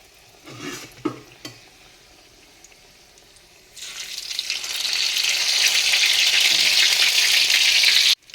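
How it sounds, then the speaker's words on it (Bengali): Long eggplant fritters (beguni), made from tender eggplants with their stems left on, go into hot oil: a few utensil knocks and light stirring first, then a loud, steady, hissing sizzle that swells and holds close by. "বেগুনিটা লম্বা লম্বা বেগুনি বসিয়ে দিয়েছি"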